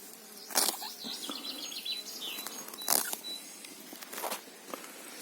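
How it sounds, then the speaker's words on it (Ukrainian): Bees buzz steadily at low level outdoors over flowering thyme on hills, with brief louder bursts as they pass close, and faint bird chirps in the background. "Бджоли мед збирають."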